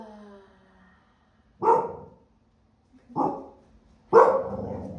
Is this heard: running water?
no